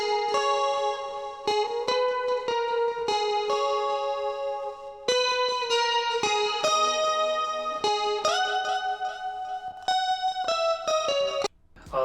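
Synth-pop lead guitar with compression and EQ in an 80s-style pop song, playing a sustained melodic line with bright harmonics and regular note changes, loud and upfront with no talking.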